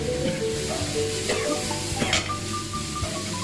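Bean sprouts stir-fried in a hot wok with chili, chives and enoki mushrooms sizzle loudly and steadily, with scraping stir strokes and a few metallic clanks.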